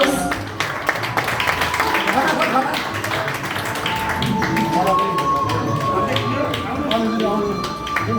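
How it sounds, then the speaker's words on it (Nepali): An audience applauding at an award ceremony, a sustained dense patter of clapping hands filling the hall while a voice speaks over it. "ताली कमी भयो, गडगडाहट ताली बजिरहोस्।"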